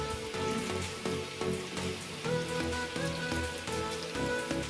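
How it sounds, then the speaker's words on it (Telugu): Coconut-and-sugar-filled karanji pastries fry in hot oil, giving off a steady, close crackling sizzle like rain, with faint pops throughout. "ఇప్పుడు మనం ప్రిపేర్ చేసుకున్న కజ్జికాయలు నూనెలో వేసేసుకోవాలి. మాడిపోకుండా తీసుకుంటూ కాల్చుకోవాలి."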